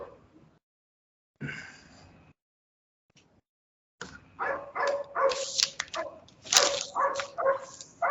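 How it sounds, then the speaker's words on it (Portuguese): A neighbour's dog barks and yips repeatedly in the background of an online call, several sharp bursts coming through an open headset microphone, moderately loud with brief gaps between volleys. "Tem um cachorro aí."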